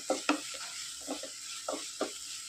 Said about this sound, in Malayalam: ഈ തക്കാളിയും സവോളയും പച്ചമുളകും ഒക്കെ നന്നായിട്ട് വഴന്നു വന്നിട്ടുണ്ട്